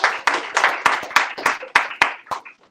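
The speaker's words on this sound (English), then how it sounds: "can we give them a round of applause?" A small audience claps to welcome first-time visitors at a bookstore book discussion: a short run of distinct, fairly loud handclaps in a loose rhythm over under three seconds, the individual claps clearly separate rather than blending into a roar.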